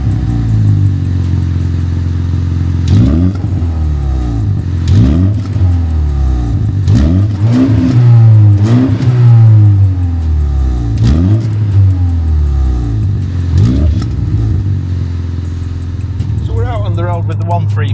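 A BMW M135 (F70) performance exhaust revs loud and close, with repeated throttle blips rising and falling over a rumbling idle.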